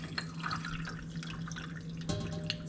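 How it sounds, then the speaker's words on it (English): A drink is poured over ice in a glass while a lime-mint mocktail is made, giving a soft, quiet trickle with faint clinks and drips. "So I'm going to pour it over the ice."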